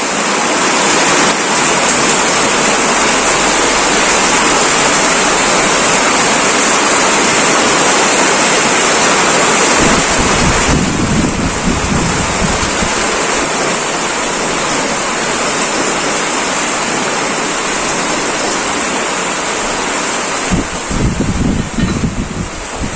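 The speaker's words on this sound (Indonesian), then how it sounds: "malah hujan guys, nggak kedengeran nggak?" Heavy rain falls in a steady, loud, unbroken hiss that fills the whole stretch, with a few brief low thumps and shifts partway through.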